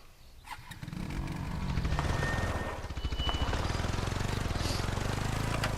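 An ATV quad engine in the hunting game theHunter: Call of the Wild runs loud and close with a steady, buzzy idle-to-rev drone, its rapid pulsing throb continuing without pause and no talk over it.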